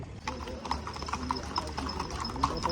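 Horses' hooves clip-clop in a steady rhythm at a film shoot in the Gandikota canyon, with close, regular strikes and people talking alongside.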